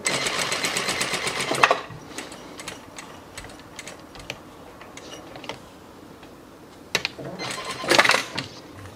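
A sewing machine stitches a shirt seam in a fast, even run of needle clicks at first, then stops, leaving scattered clicks and ticks and a short second burst near the end.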